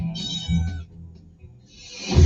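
A cat in a radio advertisement lets out two close, clear meows, the second rising into a louder, harsher cry at the end.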